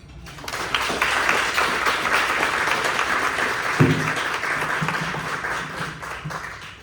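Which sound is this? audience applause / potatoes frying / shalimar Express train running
audience applause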